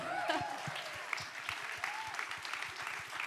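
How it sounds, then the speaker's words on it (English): A summit audience at a women's sports business event breaks into steady, dense applause that fills the room, with a voice briefly audible over the clapping at the start. "Let's clap that up."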